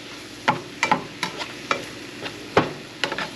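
Broccoli cooks in a pan with a run of sharp clacks and scrapes as it is stirred and flipped, about a dozen bursts at irregular intervals over a soft sizzle, with no talking.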